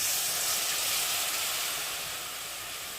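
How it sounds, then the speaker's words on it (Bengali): A ground chutney paste is poured into a pan of ginger, garlic and onion frying in oil, giving a steady loud hiss and sizzle that eases slightly toward the end, with no talking. "আর এখন আমি এই যে বেটে এই মিক্সচারে যে চাটনিটা বানিয়েছি সেটা এখন ঢেলে দিয়ে দেবো।"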